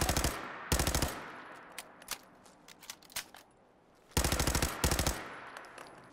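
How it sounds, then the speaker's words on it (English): Vanilla Fallout 4 gunfire: two loud, sharp bursts of rapid automatic shots, one near the start and one near the end, with scattered quieter shot echoes and clicks in between. "Now I'll show a clip of me shooting the same gun,"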